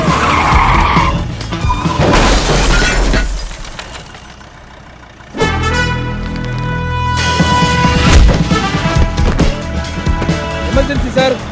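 Car braking hard and skidding, loud tire squeal and engine noise up close, dropping off briefly before another long screech with the engine roaring again; no clear talk.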